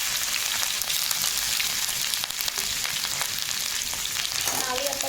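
Garlic, ginger and cumin sizzling in hot oil in a pan while being stirred for a Punjabi-style potato and dried fenugreek dish, a loud, steady frying hiss throughout with faint scraping of the spoon.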